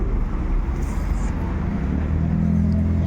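Buses passing on a street in La Paz, Bolivia, a loud low engine rumble of nearby road traffic that swells into a deeper drone toward the end.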